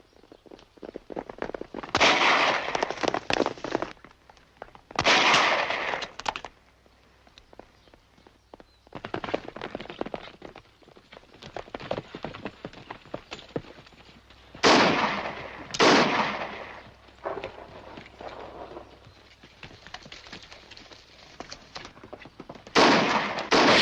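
Rifle shots in a Western gunfight ring out in several loud, sharp bursts spread irregularly across the scene, separated by quieter stretches with faint rustling and movement.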